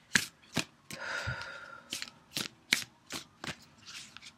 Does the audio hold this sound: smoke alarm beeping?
no